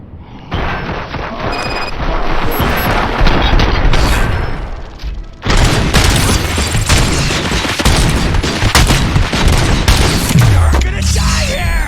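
Heavy sustained gunfire in the video game RoboCop: Rogue City, a loud continuous fusillade with booms that breaks off briefly and surges again near the middle and runs on to the end.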